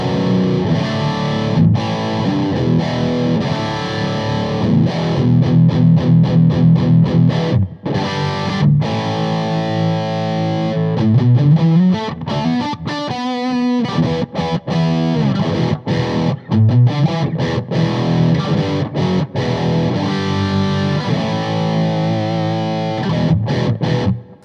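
A distorted electric guitar plays through a Laney IRF Loud Pedal amp on channel 2 with reverb, loud and continuous riffing with palm-muted chugs, sustained chords and brief pauses, heard alone.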